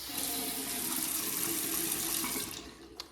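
A faucet runs strongly into the sink of a guest bathroom with dual vanities in a modern Las Vegas home, a steady close splashing flow that shuts off near the end.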